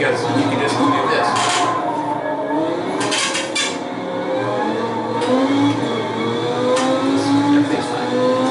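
A race car engine in a driving simulator game revs and shifts continuously, its mid-pitched whine rising and falling in sweeping tones, loud and close throughout, with a person talking over it.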